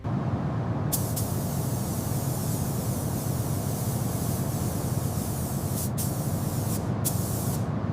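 A paint sprayer lays the first coat on a McLaren Senna with a loud, continuous close hiss. The spray cuts off in brief gaps near the start and again toward the end.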